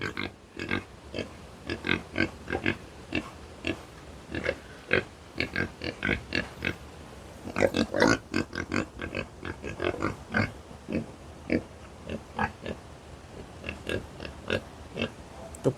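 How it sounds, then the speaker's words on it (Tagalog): Native pigs on a farm grunting in short, irregular bursts. The grunts come close together and fairly near, with brief gaps between them. "yung native natin na baboy."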